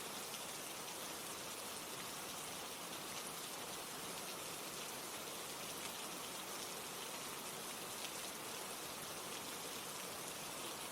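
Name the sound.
rain falling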